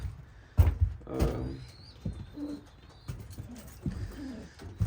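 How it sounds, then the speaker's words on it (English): Racing pigeons coo softly in a loft, several low burbling calls spaced across the moment, mixed with occasional thumps and wing or door knocks at close range. "You got a whole bunch of pigeons"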